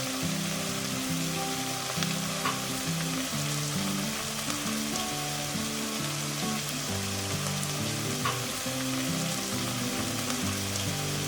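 Beef with soy sauce, salt and pepper sizzles steadily in a hot pan while being stirred for beef broccoli, a continuous close frying crackle with no voices.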